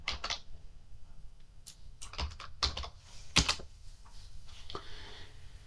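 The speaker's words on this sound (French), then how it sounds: "Et là, vous tapez une ville ou un code postal." Fingers type a short string into a website search field on a computer keyboard, producing scattered quiet clicks in small irregular bursts with brief pauses between them.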